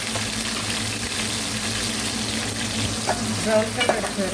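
Onion paste fries in oil with curry leaves, a loud, constant sizzle under a low background hum, with a few stirring scrapes near the end.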